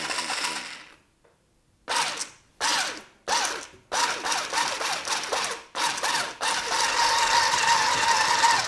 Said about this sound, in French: Je ne m'embête pas, je vais le faire au fouet électrique.